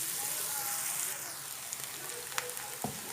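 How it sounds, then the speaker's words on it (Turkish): Onions sautéing in a pan for stuffed peppers, a steady close sizzle and crackle throughout with a soft clatter of stirring near the end. "Soğanlarımız e, çok güzel kavrulması gerekli arkadaşlar."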